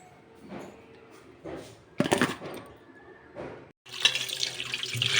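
Flattened rice (aval) is rinsed under running tap water in a kitchen sink, with splashing and gushing bursts of water, a brief pause, then louder sustained flow and sloshing close by.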